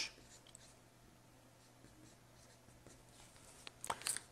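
Someone writes a quadratic algebra inequality by hand, soft scratchy strokes under a quiet steady hum, ending in a few louder scribbles, no voices.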